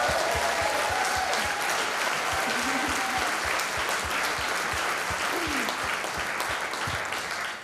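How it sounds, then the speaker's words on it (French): A theatre audience applauds musicians at a benefit show against violence toward women, with loud, dense, sustained clapping and a few faint voices mixed in. "Je pense qu'ils méritent une bonne main d'applaudissements."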